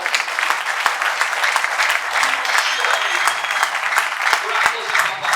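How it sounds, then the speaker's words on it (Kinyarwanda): A church congregation claps in sustained, dense applause, loud and continuous, with voices mixed underneath. "Tugukomeye amashyi kwawe"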